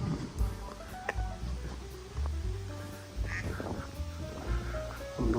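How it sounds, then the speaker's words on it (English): Several ducks quack repeatedly at moderate distance, a busy irregular chorus of nasal calls with no voices over it. "I wonder what language they're quacking in over there."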